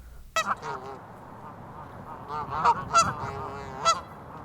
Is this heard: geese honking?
yes